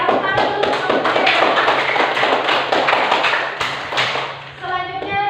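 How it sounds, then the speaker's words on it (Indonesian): Classroom applause for a student group, dense rapid hand claps from many pupils close by, fading out near the end as a few voices begin. "tepuk tangan dulu untuk kelompok 3"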